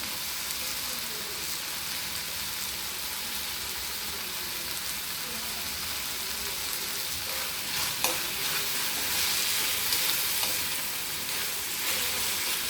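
Half a teaspoon of cumin seeds sizzles steadily in a hot pan, with a continuous bright crackle and occasional scraping stir strokes and small clinks, close and fairly loud, no voices.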